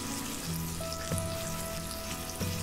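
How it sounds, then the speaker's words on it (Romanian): Mushrooms frying in a pan for a mushroom stew, a steady moderate sizzle with a few soft clinks and tonal hums from the cookware. "Punem ciupercile la gătit"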